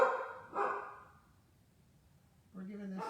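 A dog barking at a neighbour across the street outdoors, two or three short, fairly faint barks separated by a quiet pause.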